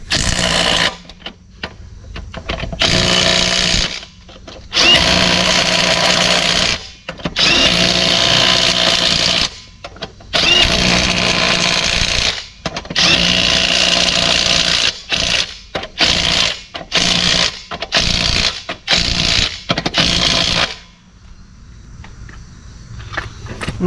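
Pneumatic impact wrench tightening wheel lug nuts on a 2010 Chevy Suburban 1500 during a rear brake and rotor job, loud buzzing rattling bursts repeated in several long runs and then shorter quick hits, with no talking.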